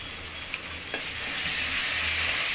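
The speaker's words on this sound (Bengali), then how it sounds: "এটা ভালো মতো আবার কষিয়ে নেব কিছুক্ষণ।" Chicken korma masala with ground nuts and sauce sautés in a pan, a soft continuous sizzle with a couple of faint stirring scrapes, growing slightly fuller toward the end.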